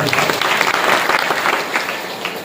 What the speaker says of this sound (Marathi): त्यांचा आपण टाळ्या वाजवून स्वागत करूया